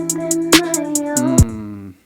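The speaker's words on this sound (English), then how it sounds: "now a more crisp hi-hat is what we need if we want to, you know, go for that trap vibe." A crisp trap hi-hat pattern programmed in Logic Pro X ticks at a quick, even pace over sustained melodic synth notes in a short, clean loop that stops abruptly near the end.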